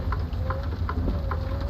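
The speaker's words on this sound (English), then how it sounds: "Oh, here comes the rain for me." Steady rain falling in the truck-driving game American Truck Simulator, a constant hiss with light drops pattering on the cab, and no talking over it.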